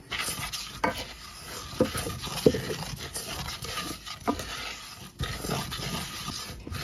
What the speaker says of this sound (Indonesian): Aduk semua bahan kering hingga tercampur supaya tidak menggumpal pada saat diberi cairan.